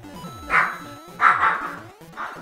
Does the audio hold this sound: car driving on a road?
no